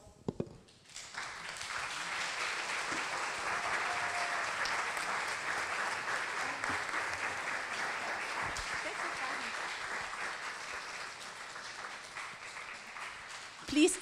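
Sustained applause from a crowd for performers on stage, steady and dense for over ten seconds, with a few scattered voices and cheers mixed in.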